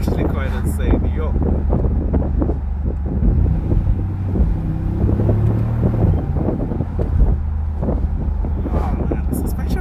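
Wind roars steadily through the open window of a moving 2019 Mercedes-AMG G63, a loud, continuous buffeting rush with low road rumble underneath and someone talking over it.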